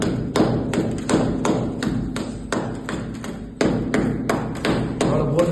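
Knocking on the wall of a newly built house, a series of about a dozen sharp, close thuds and taps in an uneven rhythm, with no voices.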